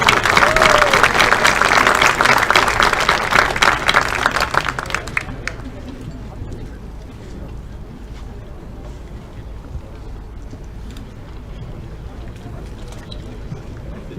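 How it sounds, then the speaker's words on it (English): Audience applause at a high school football awards banquet, loud and dense for about five seconds with a few cheers, then dropping away to low room murmur and quiet background noise. "Give them one more round of applause."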